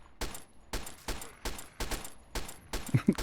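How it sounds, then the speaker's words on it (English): A 10mm submachine gun in a video game fires a steady series of single sharp shots at roughly even intervals, loud and close with no talking. "10mm submachine gun putting in work"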